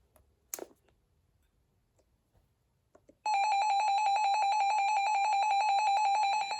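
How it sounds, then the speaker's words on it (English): After a click and some faint handling noise, a loud, piercing electronic alert tone starts and holds steady with a fast pulsing warble. "put it into test mode so we can hear the alert tone"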